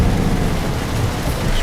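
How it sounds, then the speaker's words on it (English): Steady heavy rain with a low thunder rumble in the truck-driving game Euro Truck Simulator 2, a dense loud wash of noise filling the short stretch without talk. "The lights are on, it's raining."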